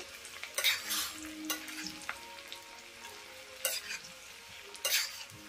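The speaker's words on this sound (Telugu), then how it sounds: "జీడిపప్పు కూడా వేగిన తర్వాత పచ్చిమిరపకాయలు చిన్న ముక్కలుగా కట్ చేసుకుని వేసుకోవాలి. వేయించుకోవాలండి 2 నిమిషాలు." Cashews and chopped green chillies fry in a pan with oil for katte pongali, a soft continuous sizzle broken by a few bright scraping stirs of a spoon, close by with no talking.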